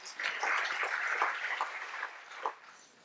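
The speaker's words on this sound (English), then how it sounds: "Yeah, round of applause." Lecture audience at an evening talk on CRISPR genetic engineering applauding for a speaker, a dense, steady wash of clapping that swells quickly, holds for about two seconds, then thins out and fades.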